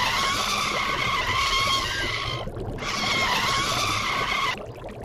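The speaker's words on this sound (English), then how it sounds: "I hit the brakes before we crashed into a wall." Cartoon brakes skid loudly in two long screeching bursts, each cut off abruptly, as an underwater boat-car slides toward a crash into a wall.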